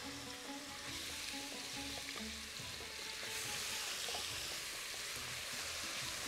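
Onion frying in oil in a pan gives a steady, hissing sizzle, continuous and fairly close, with faint stirring clatter and no talk.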